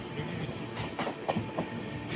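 A passenger train runs on rails past Bongaigaon Junction in Assam, a steady close rumble with soft rhythmic clicks of wheels over rail joints and no talk.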